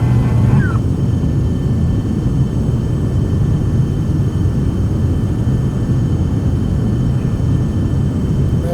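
Steady, loud jet engine roar of a Vulcan aircraft in a flight simulator, a continuous low rumbling drone with no break.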